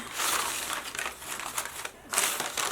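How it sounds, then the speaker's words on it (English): A handwoven piece is unwrapped from its crinkly wrapping, making close crumpling and rustling crackles in uneven bursts, with a brief pause before a final rustle. "Unwrap it."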